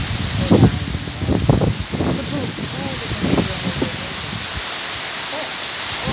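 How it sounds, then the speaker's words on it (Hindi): Rain driven by strong wind in the Himachal hills, a constant hiss with gusty rustling of leaves and trees, while a few bursts of speech break in over the first half. "तो हवा और बारिश एक बराबर ही है।"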